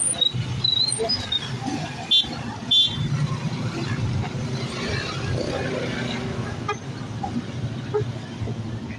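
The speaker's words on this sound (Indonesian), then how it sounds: "Ini adalah mobil rombongan dari Polda Jabar" A police convoy car passes on a busy road. A steady engine and traffic rumble fills the background, and brief horn toots sound early on amid the street noise.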